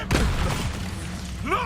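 An Incendio fire spell is cast in a Harry Potter video game, opening with a sudden whooshing burst that fades into a rumbling tail, followed by a brief rising chirp.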